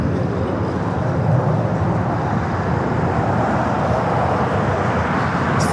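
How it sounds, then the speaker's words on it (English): Volaris Airbus A321neo airliner on flight 1713 to Guadalajara at Los Angeles airport, heard as a steady, loud broadband jet roar that holds evenly throughout with no talk. "Volaris. Flight 1713, A321 Neo."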